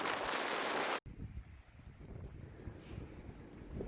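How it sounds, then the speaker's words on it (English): Steady wind roars and buffets a microphone near the summit of Pikes Peak, with a sharp cut near the start and continuous broadband rushing throughout. "It is very, very windy here."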